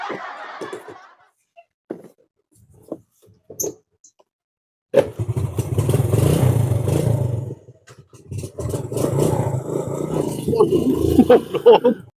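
A motorcycle engine in a Sundanese comedy sketch roars into a loud, steady rumble after some quiet chatter and laughter, dips briefly, then rumbles on again.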